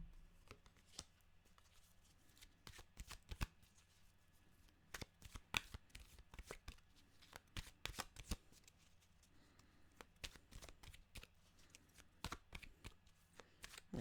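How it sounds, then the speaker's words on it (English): Animal oracle cards are shuffled in a quiet room as a run of soft, irregular riffling slaps and shuffles that come and go across the stretch, close and faint, with no voices. "They just don't want to shuffle tonight."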